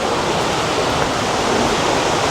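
Steady, loud roar of a waterfall on a mountain trail near Tangmadan Mountain, a dense continuous rush of falling water with no breaks and no voices over it.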